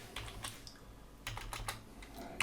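Code typed on a computer keyboard while scripting in Unity: quiet, close keystrokes in short irregular clusters with brief pauses, and no voice.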